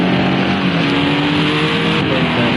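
GT3 race cars including a BMW and a Cadillac roar around the Fuji circuit in Project Cars 2, a dense, continuous engine drone at full volume with no break.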